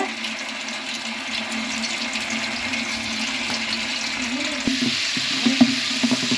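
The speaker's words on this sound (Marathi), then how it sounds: "बघा आलं लसूण छान भाजायला लागले चांगलं लाल होईपर्यंत भाजूया" Ginger garlic paste fries in hot oil with a continuous close sizzle and bubbling, plus a few sharp spatters and utensil taps toward the end. No talking.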